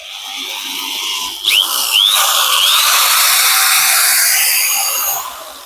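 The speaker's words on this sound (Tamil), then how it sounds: "ஓகே ஃப்ரெண்ட்ஸ், இந்த மிஷினை இப்ப ரன் பண்ணி பார்க்கலாம்." A Starkut electric screw drilling machine starts up with a whine that rises in pitch and wavers as it changes speed, then runs loud and steady at close range before cutting off.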